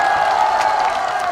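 A brief burst of clapping and cheering comes from a concert crowd at an MBC Gayo Best music show in Samcheok, a loud, continuous swell of hands and voices.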